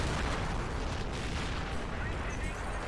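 Artillery blind-firing in the Army Men video game during a huge winter field battle, heard as a dense, continuous rumble of booming gunfire and explosions throughout, loud and steady with no clear gaps.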